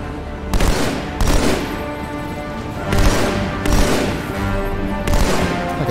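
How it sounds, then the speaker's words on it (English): Repeated bursts of automatic gunfire from Halo 2 in the Master Chief Collection, loud and close, coming in several dense volleys separated by short pauses with no talking. "I'm gonna shoot the guy off of it."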